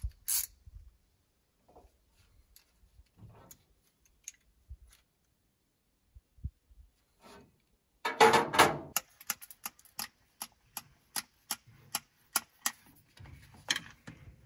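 A 1952 Dodge M37 flathead engine is turned over by hand at the fan. After near silence come a scrape and then a run of faint, evenly spaced mechanical clicks close by.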